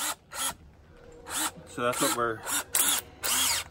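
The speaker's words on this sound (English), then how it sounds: "We're going to test out this drill." A power drill, looking brand new, is test-run in short bursts while building an off-grid outdoor bathroom. The whining pulses start and stop several times, close and loud, and someone talks briefly between them.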